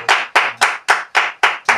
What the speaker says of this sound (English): they're clapping for her.